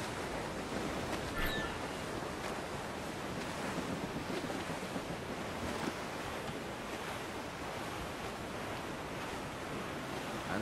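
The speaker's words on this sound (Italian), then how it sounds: "Il vento si è alzato ormai." Wind gusts and ocean waves at sea surge steadily and loudly in Assassin's Creed IV: Black Flag, a constant broadband roar around a small schooner with no voices.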